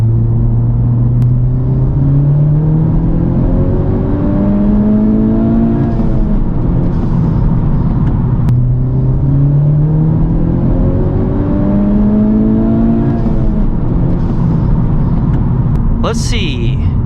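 A 2021 Honda Civic Type R pulls hard through third gear, the engine note climbing loud and close in a long sweeping rise, dropping at a shift and then climbing again.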